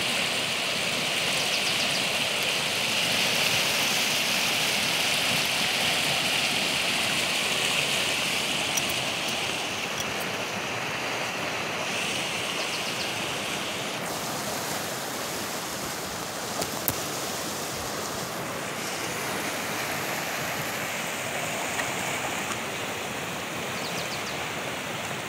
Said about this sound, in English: the river is moving faster. The water is moving faster